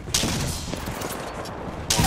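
Rapid bursts of gunfire in a video game, a sharp volley at the start and another at the end, with crackling shots in between.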